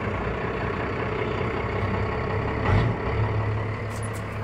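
A 1989 Dodge D250 diesel truck engine idles with a steady, rough low clatter close by, swelling briefly near the end as it is put into reverse.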